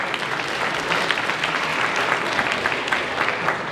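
An audience applauds at a school band concert for the middle school director, a dense, steady wash of clapping from a large crowd that holds at an even level throughout.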